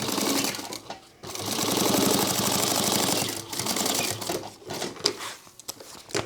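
A sewing machine runs a top stitch 1/8 inch from a seam on a sling crossbody bag, a close, steady rapid whir that pauses briefly twice and then resumes in shorter bursts.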